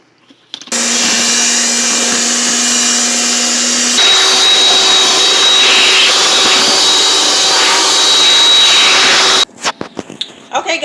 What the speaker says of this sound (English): I'm going to go ahead and mix this until it's whipped